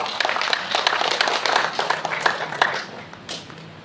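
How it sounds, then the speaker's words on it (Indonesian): Applause from an audience at a national anti-corruption repentance pledge event at Loji Gandrung in Solo, a dense run of claps that fades slightly toward the end, with no voices over it. "Tepuk tangan untuk silakan."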